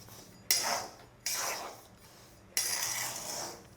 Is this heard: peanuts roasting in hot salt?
yes